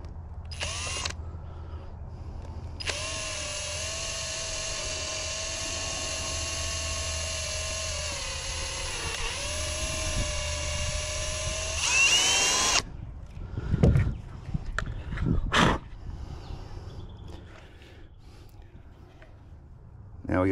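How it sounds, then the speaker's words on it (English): A power drill bores a drain hole in the front side of a cooler, with a loud sustained whine for about ten seconds that rises as the bit breaks through, followed by clattering handling noises. "So I'm just going to drill a hole on the front side,"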